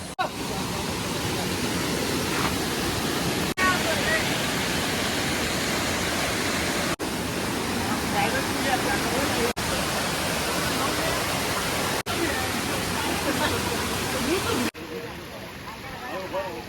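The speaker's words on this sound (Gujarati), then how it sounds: "હાથની માતા ધોધ ચાલુ થઈ ગયો છે" A loud, constant roar of rushing water from Hathni Mata Waterfall near Jambughoda, Panchmahal, Gujarat, fills the whole clip, broad and unbroken, with no voices.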